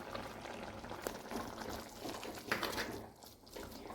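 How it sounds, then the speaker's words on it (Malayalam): Ladyfinger and tomato theeyal curry bubbling in a pan, a steady close simmer with soft pops and gurgles throughout, briefly quieter near the end. "ഇനി ഇതിൻ്റെ എണ്ണ തെളിയുന്ന വരെ നമുക്ക് തിളപ്പിക്കാം"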